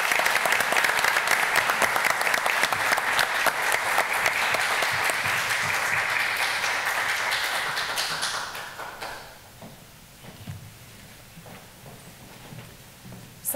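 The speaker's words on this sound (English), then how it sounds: "let's give him another round of applause" Audience at a school board of education meeting gives a round of applause, a dense clapping wash that fades out after about nine seconds, leaving a quieter room with a few scattered taps and shuffles.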